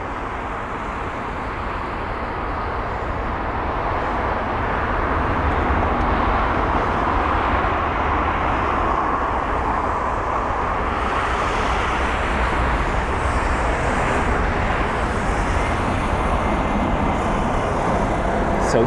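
A jet airliner taxis at London Heathrow, its engines a loud, steady roar and whine that swells slightly after the first few seconds and holds for the rest, with no voices over it.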